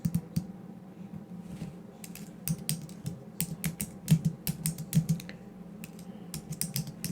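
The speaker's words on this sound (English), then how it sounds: "When I start typing" Quick, light key clicks tap in an irregular rhythm, close and fairly quiet, over a low steady hum.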